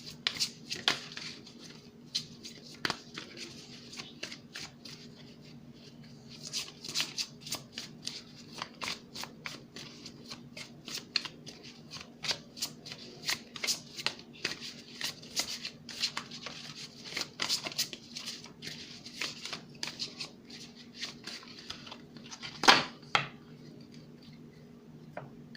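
Tarot cards being shuffled by hand, a steady stream of soft riffling clicks and papery slaps over about twenty-five seconds, close and fairly quiet, with occasional louder snaps.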